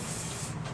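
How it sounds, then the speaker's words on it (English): A steady hiss of a spray can spraying, close and continuous for under a second. "And then I'm going to take the spray."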